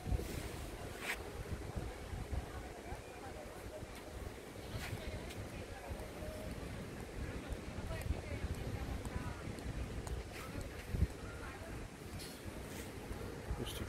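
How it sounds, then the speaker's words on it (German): Ocean waves washing onto the beach at Salou, Spain, a steady broad wash of surf with heavy wind buffeting the microphone throughout, while a person talks over it. "schaut mal wie schön. Richtig schöne Strand"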